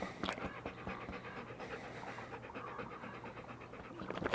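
Ben, a rescued DHS border dog, pants close and steady, a rapid rhythmic huffing that keeps going throughout with no talk over it.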